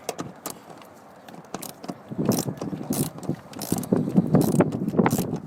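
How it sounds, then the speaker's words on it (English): Open-end 13mm wrench working nuts loose in the engine bay of a 2000–2004 Ford Focus, giving a series of close, irregular metallic clicks and ratcheting scrapes that grow busier toward the end. "So all you're going to be doing is taking out the nuts."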